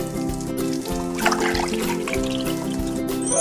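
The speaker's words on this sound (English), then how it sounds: "Add milk." Milk pours in a kids' cooking video game, a short, steady liquid trickle set over a looping background melody.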